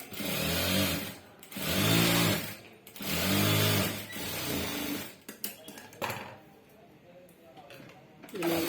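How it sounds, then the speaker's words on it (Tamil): A sewing machine stitches the side seam of a blouse in three loud, rhythmic bursts of whirring, each about a second long. Quieter clicks and handling follow, with a voice talking faintly. "நம்ம தைக்கிறது இந்த சைடு தைச்சிக்கிட்டு இருக்கோம்"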